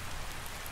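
Steady rain falls in ARK Survival Ascended, a dense even hiss of drops with no pauses over a very short moment.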